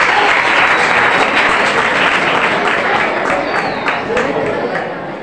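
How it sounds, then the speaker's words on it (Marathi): A school crowd at an annual prize-giving ceremony breaks into loud, sustained applause for girls receiving prizes, dense clapping close by that tapers slightly toward the end. "टाळ्या वाजवायच्या या मुलींसाठी"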